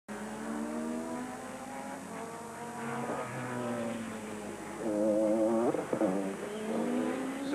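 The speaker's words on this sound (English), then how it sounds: "So here he comes, car number 99, Juan Manuel Fangio." IMSA race cars at Heartland Park scream past in 1990 racing, engines rising and falling in pitch as they approach and pass, with a louder burst of shifting revs near the end.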